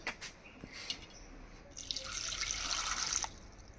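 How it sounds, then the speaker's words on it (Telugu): Water poured over tamarind to wash it for rasam, running in a short splashing stream for about a second and a half after a few faint drips and clinks, fairly close and with no talk. "చింతపండు ఎప్పుడు కూడా కొంచెం నీళ్ళు పోసి ఫస్ట్ కడిగేయాలండి"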